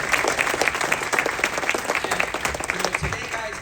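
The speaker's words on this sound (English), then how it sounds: "give yourselves a huge round of applause" An audience at a company convention gives itself a huge round of applause, with dense, sustained clapping filling the room throughout and a voice faintly audible beneath it.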